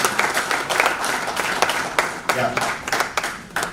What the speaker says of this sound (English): let's give another round of applause for all of them for this